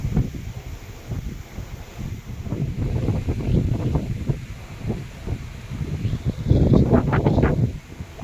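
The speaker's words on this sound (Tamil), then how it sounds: "எவ்வளோ மெதுவாக போகுது கப்பல்" Ship sailing slowly at sea around 15 km/h in the early morning: steady wind buffeting and rushing water noise with no clear engine, fuller and louder toward the end.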